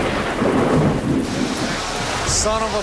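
Heavy rain and rolling thunder during a storm in Sturgis, a loud, dense roar that stays steady throughout. A voice cuts in briefly near the end.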